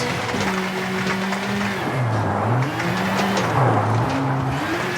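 A rally car in V-Rally 4 drives on a forest stage, its engine note rising and falling as it shifts through gears, with tire scrubbing and skidding noise under the motor, close and loud throughout.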